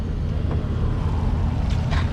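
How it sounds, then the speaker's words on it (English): Water rushes out in a steady, loud, continuous flow as the black water tank of a 2018 Thor Citation RV is dumped after a flush. "let's open up that black water again"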